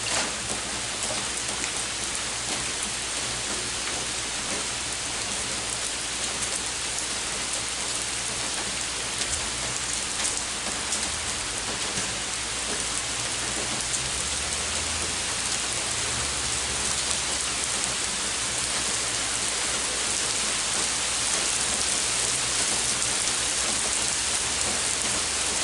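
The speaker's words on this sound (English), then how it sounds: "Wasn't raining before, it was just like sprinkling." Steady rain falls on outdoor surfaces, a constant soft wash of drops and patter continuing evenly throughout with no talking.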